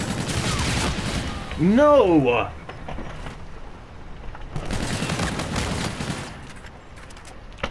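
Automatic gunfire in Call of Duty: Infinite Warfare, shooting hollow-point rounds: two sustained rattling bursts, one at the start and a second after a pause, with a player shouting between them.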